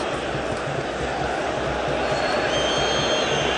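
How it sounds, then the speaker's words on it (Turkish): Football stadium crowd at a Beşiktaş–Trabzonspor Turkish Süper Lig match applauding a player, a steady dense roar of clapping and voices that holds loud and even throughout without individual voices standing out. "Alkış alıyor taraftarından"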